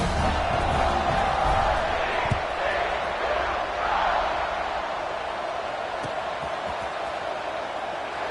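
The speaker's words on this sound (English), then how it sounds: "Kick it away, and this crowd is buzzing after that last score." A college football video game stadium crowd buzzes in a steady, dense roar with scattered cheers and thumps, under a commentator's talk.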